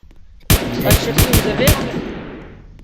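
Gunfire in a role-play video game, a sudden loud volley of several close shots in quick succession that rings out and decays, with faint background talk.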